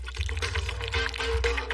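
Aloe vera gel and water pour into a blender jar in a steady liquid splash with a low continuous rumble underneath, close and moderately loud, no talking.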